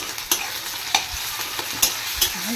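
Onion and garlic fry in a pan, giving a steady close sizzle broken by several distinct scraping knocks of a spatula stirring against the metal.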